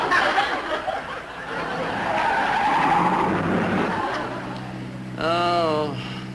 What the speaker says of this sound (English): Oh, look, here comes the car.